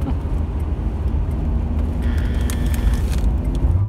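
A mid-2000s Ford Mustang pace car circles a banked race track at a Halloween hooptie event, its engine a steady loud rumble with tire and road noise continuing throughout.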